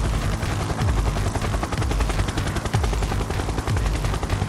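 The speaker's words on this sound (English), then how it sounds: "Another helicopter, gotta take it out." In the video game GTA V, a helicopter's rotor thumps steadily while rapid bursts of gunfire rattle on top, loud and close for the whole stretch with no talk.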